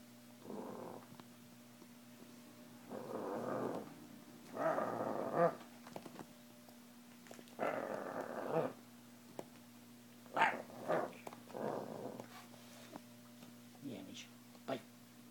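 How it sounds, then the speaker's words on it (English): A dog gives short bursts of barking and growling on command, several separated vocalizations spaced across the span with pauses between them, heard close and moderately loud over a steady low hum. "Show me your bark."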